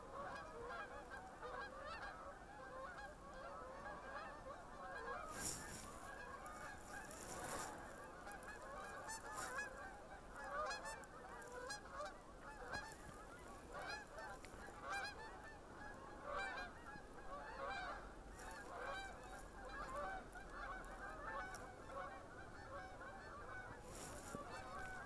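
Migrating geese honk over and over as they pass overhead on a bitterly cold, snowy, windy day in Canada, their calls distant and layered into a continuous chorus.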